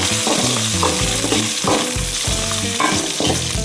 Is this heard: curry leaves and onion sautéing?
yes